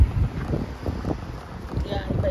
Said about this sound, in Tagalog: Lakas ang hangin, pero yung hangin